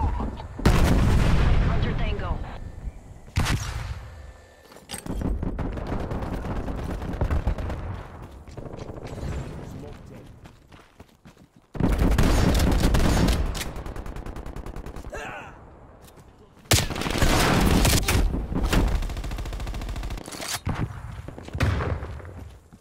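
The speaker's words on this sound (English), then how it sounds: "Artillery got me." Artillery and gunfire in a military shooter game, heavy booming blasts and rapid bursts arriving in loud clusters separated by quieter stretches, close and harsh.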